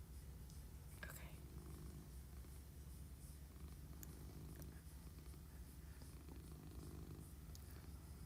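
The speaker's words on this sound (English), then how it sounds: "There's a cat in my lap." Cassius the cat purrs in someone's lap, a faint, close, continuous low rumble that runs steadily throughout with soft background noise.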